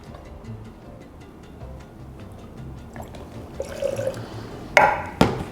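Simple syrup of sugar and water being poured while making a daiquiri, a soft trickling pour building toward the end with a couple of sharp clinks, close and fairly quiet.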